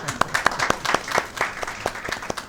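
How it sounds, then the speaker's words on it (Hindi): Applause from the audience at a Christmas special event in Manchester, with sharp individual claps standing out over a steady patter of hands for a couple of seconds. "प्रिंस अब्बास, इनके लिए तालियां।"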